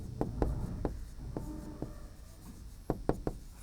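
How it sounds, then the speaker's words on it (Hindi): Chalk or marker writing fractions on a classroom board, a series of sharp taps and short strokes in two clusters with a quiet gap between, close and clear, no voice over it. "तो यहां लिखेंगे"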